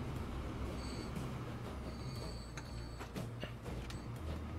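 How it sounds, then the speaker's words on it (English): A train passing in the video game Transport Fever 2, set around Marseille, with a steady rolling rumble of wheels on rail and faint squeals and creaks, continuous and alone for several seconds. "So once this train is gone, it is now."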